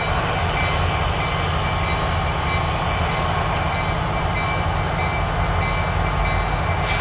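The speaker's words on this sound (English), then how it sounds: "this train we've been waiting on is finally getting ready to take off." A train idles before departing on the CN line in Homewood, Illinois, a steady engine drone with a constant hum, close and unbroken, no voices.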